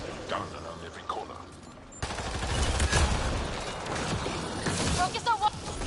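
Bursts of gunfire from the video game Mass Effect Andromeda rattle in rapid volleys after a quieter stretch, joined by mechanical clatter and with a voice talking over part of it.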